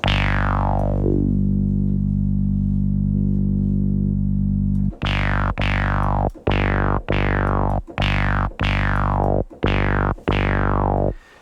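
Distorted electronic music with heavy low bass and repeated sharp swept hits, played loud and continuous with no talking.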